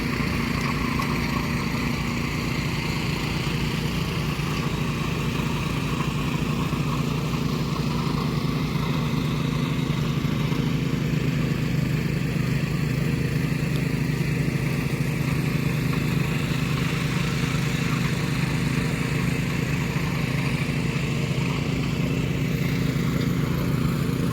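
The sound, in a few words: tractor ploughing a field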